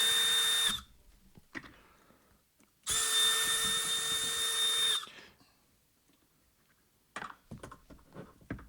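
A power driver removes screws from the gearbox of a Milwaukee M18 tool, two loud close whirring bursts, one short and one about two seconds long, followed by faint clicks and handling taps.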